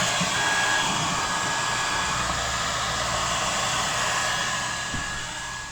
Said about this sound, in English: I'm going to put the hair dryer down here where the majority of the ice is.